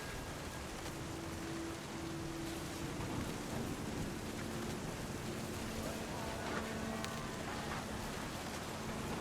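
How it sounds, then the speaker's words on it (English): Thunder and rain in the video game What Remains of Edith Finch: a steady wash of rainfall with low rumbling thunder rolling underneath, continuous throughout, with faint tonal sounds drifting in and out. "The thunder sounded much too close and full of angry power."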